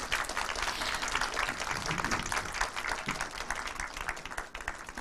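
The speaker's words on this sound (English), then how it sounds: "Yes, you can give a round of applause." Steady applause from an audience at the opening of an undergraduate research conference, a dense, continuous crowd of clapping hands heard close for several seconds.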